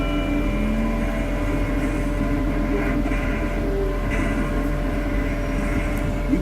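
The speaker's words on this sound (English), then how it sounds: "You can't beat a train," Train passing with a steady, continuous rumble and hum, constant in loudness throughout, with faint tonal whines above the roar.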